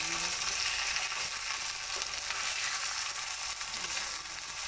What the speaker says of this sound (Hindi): चिकन फ्राई हो चुकी है।